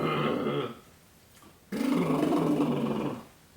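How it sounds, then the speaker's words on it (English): A dog growls softly and contentedly while being hugged, a low purring rumble in two stretches, close and fairly loud, with a short quiet gap between them. "Does your canine also purr when you hug him?"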